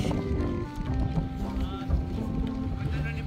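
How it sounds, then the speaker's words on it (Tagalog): Steady wind rushes and buffets across the microphone while flying a kite, a constant low roar with a faint tonal hum running underneath throughout. "Napakakulit ng hangin ngayon"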